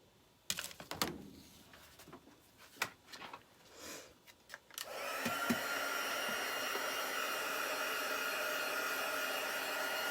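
Hair dryer drying chalk paste on glass during glass etching: scattered clicks and handling knocks first, then the dryer switches on and runs as a steady loud whoosh for the rest.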